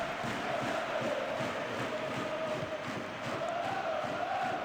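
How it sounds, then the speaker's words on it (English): Stadium crowd roaring and cheering steadily in the football video game PES 2013, a dense, continuous wall of noise from a large crowd, loud and unbroken throughout. "Oh, listen to that crowd."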